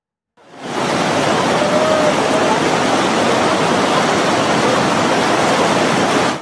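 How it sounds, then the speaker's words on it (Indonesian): A river with a strong current rushes steadily, a loud, continuous broadband roar of water with no pauses, close and unbroken. "Menyeberangi sungai dengan arus deras"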